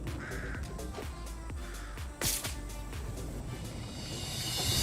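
Crows caw repeatedly over a busy, noisy Fortnite game soundscape, with a sharp burst of effects midway and a rising hiss toward the end.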